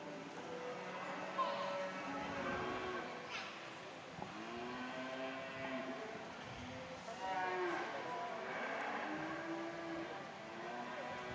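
Feeder heifers in a calf show class at a state fair moo repeatedly, long loud drawn-out lowing calls overlapping one another in a large echoing arena with a steady background hum.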